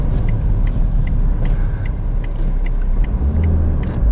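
A small 1.6-litre car with a manual clutch drives along, its engine a steady loud rumble with road noise throughout and faint periodic ticking over the top.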